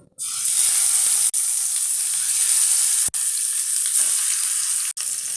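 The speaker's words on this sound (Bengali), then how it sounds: "তেল গরম হয়ে গেছে এখন আমি মাছগুলো ছেড়ে দেবো" Parshe fish hit hot oil in a wok and burst into a loud, bright sizzle that holds steady, broken by a few very brief dips, with no talking.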